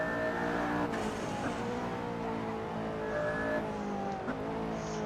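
A McLaren P1 in Assetto Corsa laps Silverstone, its engine revving up and down through shifts with brief tire squeals, moderately loud and continuous without voices.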